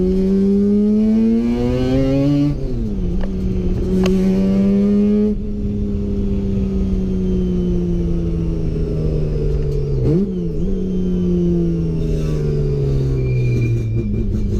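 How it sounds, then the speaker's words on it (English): A Toyota KE55 Corolla with a 13B rotary engine drives past loudly, its buzzing exhaust tone rising through the gears, dropping at two sharp shifts and then dropping again near the end. No one speaks. "James was kind enough to take us out for a quick drive in the Corolla"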